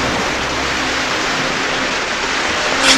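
A heavy downpour of rain pours down as a dense, steady hiss of broadband noise, loud and unbroken throughout with no voices.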